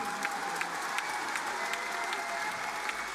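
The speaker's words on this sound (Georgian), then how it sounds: "ტაში ძალიან გთხოვთ ქართველებო" Steady applause from the audience at an IFC 18 fight event in Georgia, a continuous wash of many hands clapping at a moderate distance with a few sharper individual claps standing out.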